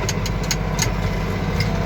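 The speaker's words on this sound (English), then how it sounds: "One thing that's nice about riding this tractor" Tractor engine running steadily at a mid-pitched rumble while chopping bedding for cattle, heard close and continuous with no talk.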